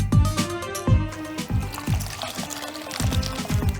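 Water poured into a container of salted water for soaking the second-layer peel of fruit to be candied, an uneven splashing pour with repeated gushes and some clinking against the vessel, close and moderately loud with no talk.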